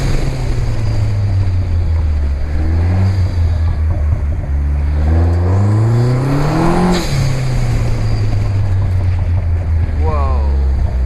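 Turbocharged engine of a Vanderhall Venice Speedster, a single-seat open roadster, revving and accelerating through gear changes on the streets of Monaco, loud and close with rising and falling engine pitch and wind rush throughout.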